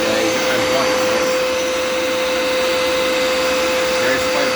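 A Dirt Devil Endura Reach vacuum cleaner runs loud and steady in a laundry room, a constant whine with no pauses.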